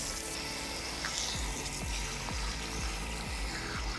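Water runs steadily through hair as a smoothing mask is rinsed out, a dense broadband spray with soft repeated swishes of hands working through the strands, close and continuous.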